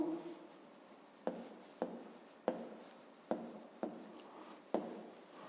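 Notes are written by hand in a quiet room, with a soft pen-on-paper scratching in six close strokes at a steady, unhurried pace.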